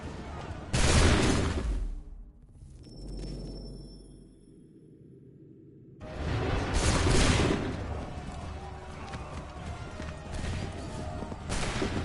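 Musket volleys in Assassin's Creed 3 crash out in two loud, massed bursts separated by a quieter lull, each volley ringing out and fading into battlefield noise.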